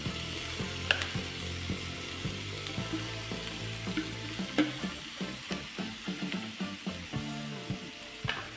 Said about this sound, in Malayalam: ഇനി ഇതിലേക്ക് നമുക്ക് മാറ്റി വെച്ചിരിക്കുന്ന ബീട്രൂട്ട് കൂടി ചേർത്ത് കൊടുക്കാം